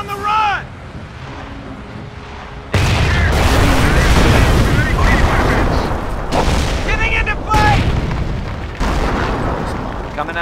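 Artillery fire support explosions in Company of Heroes, Normandy invasion: a sustained, loud rumbling barrage of booms building into dense, overlapping blasts, with radio-style voice chatter in between.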